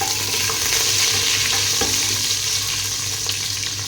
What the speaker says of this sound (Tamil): வெந்தயமும் நல்லா ப்ரௌன் கலருக்கு வரதுக்கு நம்ம பொரிக்கணும்.